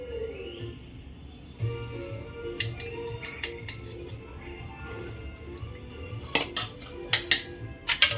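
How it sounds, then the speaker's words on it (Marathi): Metal spoon clinking and scraping against a pot while homemade ghee goes into a mutton dum biryani, sharp irregular clinks growing more frequent toward the end over quiet kitchen background. "चमच्याने मला तूप टाकायचं हे मी घरगुती आमच्या घरचं तूप आहे"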